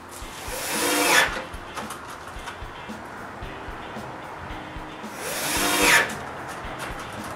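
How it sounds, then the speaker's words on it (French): A power drill drives screws through hinges into a wooden window frame in a new workshop under construction, giving two short whirring bursts separated by a few seconds of quieter room noise. "je visse l'autre partie des pentures sur le cadrage"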